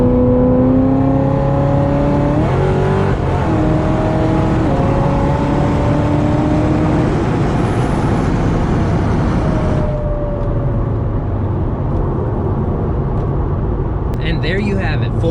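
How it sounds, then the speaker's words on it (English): A 700HP supercharged Corvette at full throttle on a dry highway: a loud, sustained engine roar that climbs steadily through the gears, with brief dips at the shifts, then a whining pitch before the roar cuts back near the end. "And there you have it, full pull in the Corvette."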